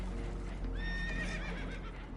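Spooked horses whinny in a shrill, wavering neigh over a steady rumbling background in the Red Dead Redemption 2 video game, with hooves faintly clopping beneath.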